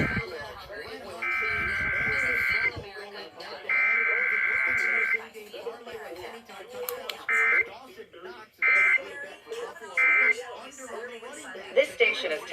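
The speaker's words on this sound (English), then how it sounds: "The following is a test of the emergency alert system." Emergency Alert System test tones broadcast on a KDKA FM radio morning test: a series of loud, steady digital tone bursts, two long and several short, with talk running beneath and between them.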